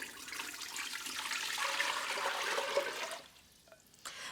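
Water pours steadily into the inner pot of a pressure cooker as sous vide chicken breast is prepared, making a continuous splashing rush for about three seconds before it stops.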